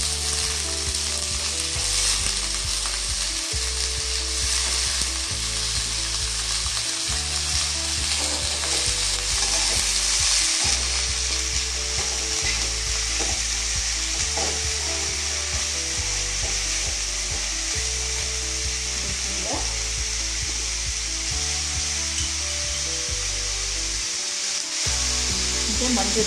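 Broad beans sizzling in a pan with softened onions, stirred with scraping and knocking sounds over a steady loud frying hiss, close up with no talking.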